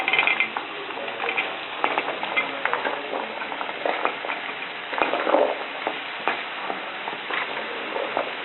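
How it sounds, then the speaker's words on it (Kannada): Raw Thothapuri mango pieces frying in a hot pan for mango gojju, a steady sizzle with scraping stirs and light clinks of a utensil against the pan, close and continuous with no talk. "ಇವಾಗ ಮಾವಿನಕಾಯಿ ಹೋಳುಗಳನ್ನ ಹಾಕ್ಕೊಳ್ಳೋಣ"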